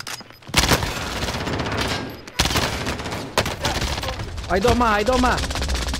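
Gunfire in a video game shootout: loud, close shots crack out repeatedly in rapid clusters, layered over continuous game noise, while a voice speaks Spanish and another voice chimes in over the action.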